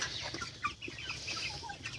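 Desi chickens on a small poultry farm, some of them sick with coryza, cluck and chatter in short, overlapping calls, a close and lively flock with no talking.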